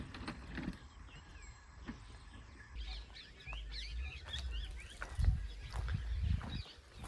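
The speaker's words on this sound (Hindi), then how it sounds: "कीड़े मकोड़े खाने के लिए पक्षी कैसे पीछे पीछे घूमते हैं।" Birds chirp and call repeatedly over a freshly prepared farm field as they follow along to eat insects, quick high tweets scattered above a low rumble of wind and machinery.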